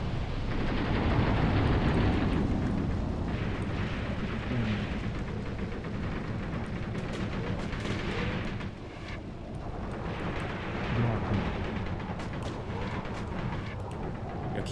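Battle in Graviteam Tactics: Mius Front, with dense rumbling explosions and bursts of gunfire forming a continuous, loud roar, with crackling shots and heavy booms throughout.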